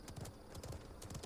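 Hooves clip-clop in a quick galloping rhythm as a horse mount runs in the video game Realm Royale, steady and fairly faint throughout the short stretch, with no talking.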